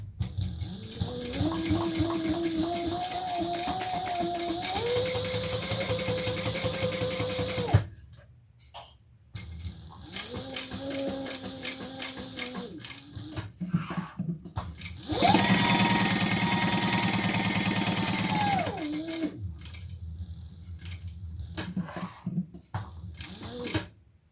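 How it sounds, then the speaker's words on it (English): Sewing machine stitching fabric pieces together down each side and across the bottom, running in several steady bursts with short pauses between seams, close and fairly loud with no talking. "We're going to sew down each side and across the bottom."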